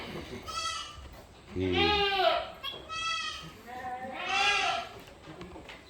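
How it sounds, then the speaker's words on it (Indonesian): A goat that has just given birth bleats several times in loud, close, wavering calls, with a short pause between each. "dan ini kambing yang melahirkan tadi"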